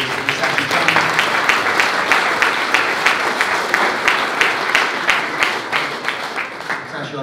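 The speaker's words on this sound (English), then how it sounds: "we should give a big round of applause to Natasha Jonas" A crowd applauds boxer Natasha Jonas, with loud, close clapping from many hands and some sharper individual claps standing out. The applause swells briefly and then thins a little toward the end.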